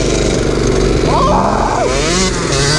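A Kawasaki KX125 two-stroke dirt bike and a mini bike drag race, engines loud and close, revving with rising pitch sweeps as they accelerate and shift, a voice shouting over the din.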